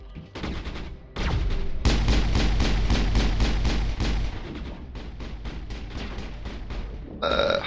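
Sniper and rapid gunfire from the Mass Effect video game, dense bursts of loud shots and impacts running almost continuously, with a heavier barrage in the middle and a sharp burst at the end.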